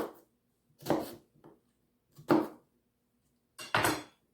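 Knife chopping onions into chunky pieces on a cutting board for a sweet onion casserole, with a few separate, fairly loud chops spaced out and short pauses between them, and no talking.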